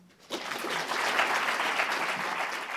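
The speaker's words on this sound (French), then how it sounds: "je vous demanderai de l'applaudir" Audience applause at an Edgar Morin conference in 2014 breaks out after a brief quiet moment, then holds as a dense, steady, fairly loud round of clapping from a crowd.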